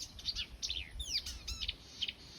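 A warbler mimics a blackbird's song in a garden, giving a run of clear, close whistled chirps and sliding notes in short bursts against a quiet background.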